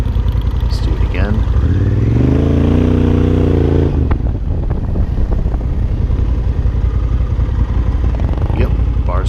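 A motorcycle rides during an advanced rider training course, its engine revving up and settling, with an instructor talking over the engine throughout.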